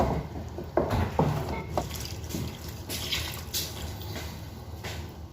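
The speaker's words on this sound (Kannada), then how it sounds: "ಇವಾಗ ಇದಕ್ಕೆ ನೀರು ಸೇರಿಸ್ಕೋಬೇಕು" Water is poured into fried masala for a Mangalore-style crab curry, a near, steady splashing pour with a few clinks at the start, heard on its own without talking.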